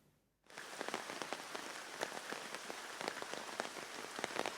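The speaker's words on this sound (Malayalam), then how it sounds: "മൂടിക്കെട്ടിയ അന്തരീക്ഷവും ശക്തമായ മഴയുമുണ്ട്" Heavy rain pours down in Kannur under a dark, overcast sky, a dense, close hiss of drops pattering on surfaces that starts abruptly after a brief quiet moment and continues steadily with no voices.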